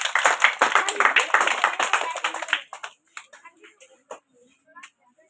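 Clapping audience at a flowers day prize ceremony for top-ranked students: a brisk, loud round of many hands for about two and a half seconds that thins to a few scattered claps and a voice.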